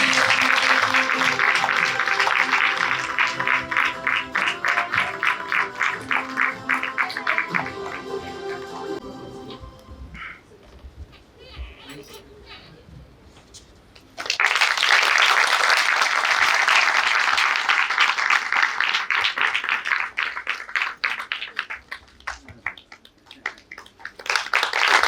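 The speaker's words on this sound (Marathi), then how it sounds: "जोरदार टाळ्या वाजवायच्या सगळ्यांसाठी." An audience at the Sarthi Sanman award ceremony at MGM University claps loudly and densely, fades to scattered claps and quieter sounds midway, then bursts back into strong sustained applause.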